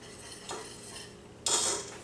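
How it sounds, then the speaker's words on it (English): A whisk scrapes against a pan while a sauce is beaten to thicken it, giving two short bursts of metallic clinking and swishing at close range with no talking. "And we're going to whisk it in to make it nice and thick."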